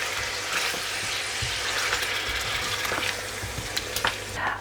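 Meat sizzles in a karahi as garlic puree and salt are stirred through, a steady close frying hiss with scattered scraping stir sounds and no talk.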